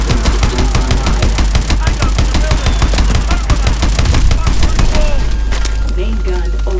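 A mech's main gun in Call of Duty: Advanced Warfare firing a rapid, loud, continuous machine-gun stream over a deep rumble, stopping near the end as it overheats.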